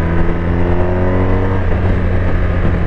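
A BMW R1250 RT 2021 motorcycle engine revs hard and steadily, its loud, throaty drone holding close and full throughout, with no voices.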